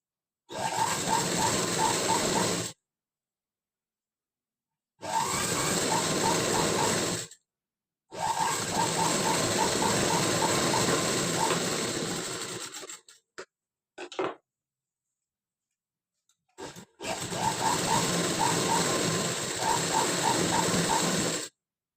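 Sewing machine stitching a blouse, running in steady loud bursts of rapid mechanical clatter separated by pauses, with a few short stops and starts near the end.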